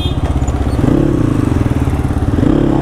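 Close, loud dirt bike engine with a double silencer, idling steadily with a rough, pulsing putter throughout and slight rises in revs.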